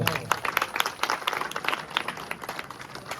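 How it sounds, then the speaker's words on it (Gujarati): Audience at a former students' reunion and felicitation ceremony claps in a dense, steady burst of applause honoring a former student, fairly close and continuous throughout. "એટલે જોરદાર તાળીઓથી વધારો એમને."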